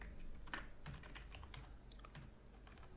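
An email address is tapped out on a computer keyboard during a Windows 7 download setup, with a steady run of close, irregular keystrokes and no voices.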